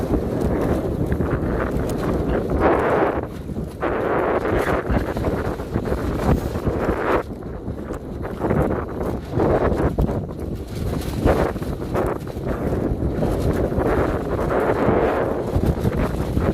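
Steady, loud wind roaring and buffeting against the microphone while fishing with a net, continuous throughout with gusty surges and no voices.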